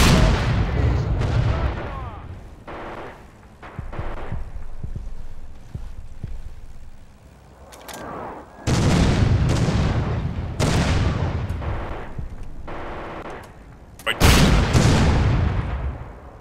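Artillery shelling in the World War II video game Red Orchestra 2, on the Myshkova River map: repeated heavy booming blasts, loud and close, coming in irregular bursts with rumbling decay between impacts.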